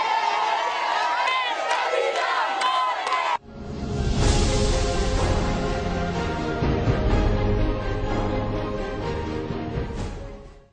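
A large crowd cheers and whoops loudly for President Joseph Kabila, with shouting voices surging after a brief opening stretch, cutting out for a moment, then roaring on in a sustained wall of noise that fades at the end.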